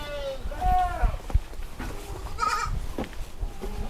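Goats bleat in a dairy goat farm's lactation and milking pen, with several wavering calls close by in the first second and a shorter one around two and a half seconds, while people talk underneath.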